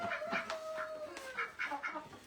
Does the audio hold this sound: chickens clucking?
yes